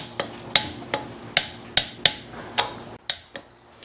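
Torque wrench on new flex plate bolts during a 1978 Corvette restoration, about eight crisp metallic clicks at uneven intervals, close and clear in a quiet shop.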